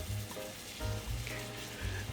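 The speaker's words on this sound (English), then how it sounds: "We will be frying or roasting this masala well, okay, without adding any oil." Steady sizzling and crackling of mutton curry masala dry-roasting without oil in a hot pan, close and continuous, with faint scraping as it is stirred.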